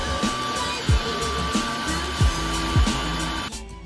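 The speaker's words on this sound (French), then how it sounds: "Cet aspirateur a la fonction de s'adapter automatiquement au niveau de saleté qu'il trouve au sol" An S5 vacuum cleaner runs with a steady broadband whir and faint tonal whine. Its motor rises in intensity as it adapts to dirtier floor, with a few brief low thumps along the way, then cuts off near the end.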